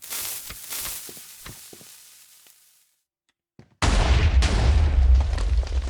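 Blasts from a TNT cannon in a block-building video game: several sharp booming pops early on fade into quiet, then a loud sustained rumbling explosion burst fills the last two seconds.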